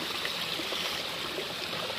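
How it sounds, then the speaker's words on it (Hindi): Water falling steadily from height at a hidden hillside waterfall in Gaya, Bihar, a constant loud broadband rush heard alone throughout. "ये देखो भाई किस तरीके से यहाँ पे पानी गिर रहा है"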